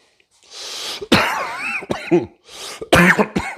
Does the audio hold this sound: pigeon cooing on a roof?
no